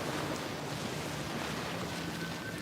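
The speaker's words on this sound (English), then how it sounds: "Hopefully you can still hear the water instead" Ocean waves wash steadily in the open air, producing a faint, continuous surf hiss mixed with light wind, with no voices.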